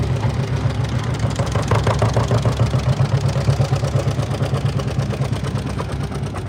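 Loud, steady engine rumble from a John Deere 60 pulling tractor at a county tractor pull, throbbing continuously under faint crowd noise for the whole stretch.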